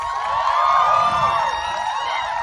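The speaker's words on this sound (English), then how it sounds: "I think a round of applause may be needed" A large graduation-ceremony crowd of students and parents applauds and cheers with whoops and shouts, a loud, lively roar that swells in the first second and then holds steady.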